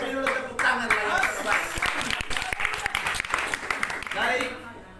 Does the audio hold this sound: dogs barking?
no